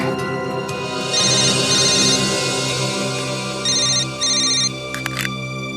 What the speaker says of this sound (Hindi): यार जब भी सीरियस डिस्कशन होता है तेरा फोन आता है